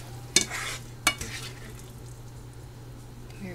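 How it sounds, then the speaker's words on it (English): Leftover fajitas in a pan at home, stirred with two sharp scrapes near the start, then left to simmer with a soft, steady sizzle that carries on quietly to the end. "So 5 minutes, we're going to let this simmer."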